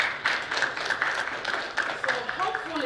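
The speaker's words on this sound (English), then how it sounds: "So please give a round of applause." Audience applause at a symposium on Africa's brain drain in New York, a steady patter of many hands filling the room, with a voice speaking over it near the end.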